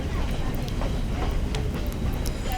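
A Sri Lankan passenger train from Badulla to Colombo rumbles along in a steady, dense low roar, with faint clicks and rattles scattered over the top throughout.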